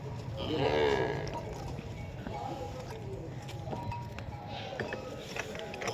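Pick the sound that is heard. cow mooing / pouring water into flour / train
cow mooing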